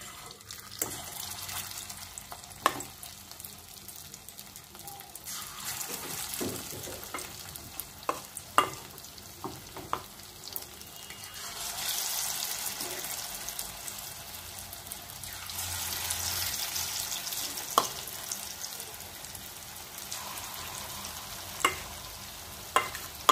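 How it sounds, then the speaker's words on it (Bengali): Spoonfuls of bottle gourd kofta batter drop into hot oil and fry, with a soft, rising and falling sizzle and scattered clicks of a spoon against the pan. "আমি এই 1 চামচ নেব আর তেলে ছাড়বো।"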